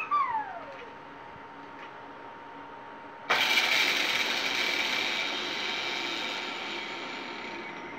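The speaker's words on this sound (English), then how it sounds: "Light Blue Yoshi, you start to spin the wheel." A Wheel of Fortune plug-and-play TV game plays its wheel spin as a steady electronic whir after a falling synth tone, running at fairly even loudness for several seconds with no voices.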